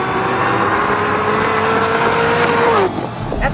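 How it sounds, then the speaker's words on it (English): Chevrolet Corvette ZR1 with a supercharged V8 accelerates hard, a loud, strained engine note climbing in pitch with supercharger whine, then dropping sharply as it shifts or lifts near the end. "the truly engaging driving experience and sound of a supercharged V8"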